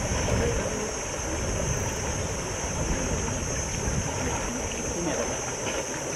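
Strong, fast current of the Krayan River rushing in a dense, steady roar close by, with wind blowing over it and no clear talking.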